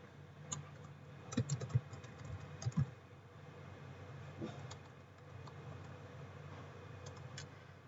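Faint, uneven keyboard typing while Flutter widget code is entered on a computer, with soft clicks in bursts over a low steady hum.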